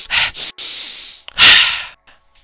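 A person demonstrating a quick, forceful breathing technique: a few sharp, hissing breaths in and out through the nose and mouth, loud and close, with a strong snort-like exhale near the end.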